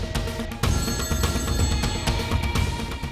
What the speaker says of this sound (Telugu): రింగ్ అవుతుందన్నా.